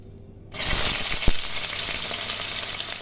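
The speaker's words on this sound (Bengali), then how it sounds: "তেল গরম হয়ে গেছে, প্রথমেই আমি উচ্ছেটাকে ভেজে নিচ্ছি।" After a short quiet moment, bitter gourd hits hot oil and a loud, steady sizzle takes over, with a few stirring clacks.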